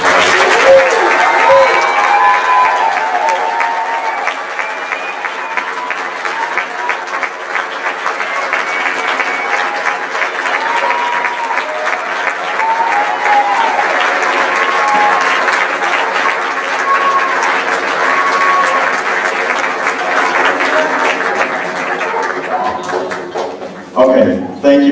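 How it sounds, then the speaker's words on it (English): Audience applause at a school band concert, a long steady round of clapping with some cheering and crowd murmur, fading out with a few louder sounds at the end. "Let's give them a nice round of applause."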